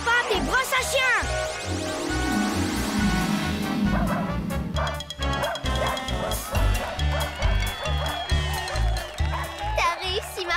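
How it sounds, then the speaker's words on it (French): In a French children's cartoon, a dog's repeated barks and yips form a rhythmic, sung pattern over steady music. Other characters talk throughout. "Voici Culbuto et son chien qui chantent."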